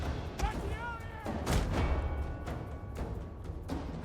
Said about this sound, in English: You guys are taking quite a bit of damage from that artillery.